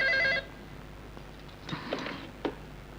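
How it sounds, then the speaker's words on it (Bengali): An old-style telephone bell rings in a Bangladeshi movie scene, one short loud burst at the start that cuts off, followed by faint clicks and handling noises. "নিশ্চয়ই ব্ল্যাক টাইগারের ফোন"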